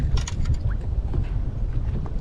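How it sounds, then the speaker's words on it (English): Wind gusts over a lake around a small fishing boat used for crappie fishing, a steady low rumble of buffeting against the microphone with faint splashy and rattling bits, continuous and close. "the wind is picking up"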